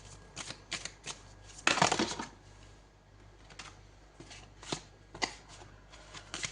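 Tarot cards being shuffled and drawn, with a burst of riffling in the middle set among quieter flicks and snaps of single cards, all close and soft, with no voice.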